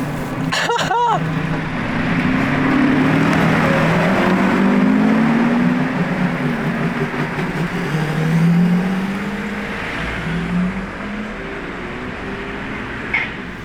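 A Lamborghini Revuelto supercar drives past with a loud engine roar, rising and falling in pitch as it approaches and moves away.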